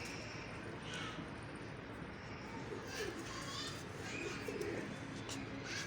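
Pigeons at a pigeon club coo softly in the background amid other faint bird calls and distant children's voices, under a steady low rumble.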